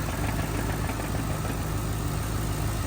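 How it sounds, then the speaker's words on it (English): Idling 2011 Crown Victoria with a manual swap and a worn throwout bearing, giving a steady low engine rumble with a faint, regular knocking ticking through it, close and continuous with no talk. "if you listen closely, you might be able to hear that little knocking noise."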